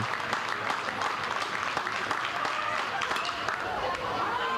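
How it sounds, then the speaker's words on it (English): A large crowd at Warner Ballpark for a Baylor versus Dallas Baptist college baseball game applauds steadily, a dense wash of clapping and cheering that holds at an even level throughout. "Still a good crowd here at Warner Ballpark."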